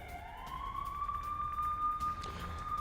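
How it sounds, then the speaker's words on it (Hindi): An air raid siren in Srinagar rises in pitch, then holds a long, steady wail over a low background rumble, with a brief disturbance near the end. "लगातार सायरन की आवाज सुनाई दे रही है"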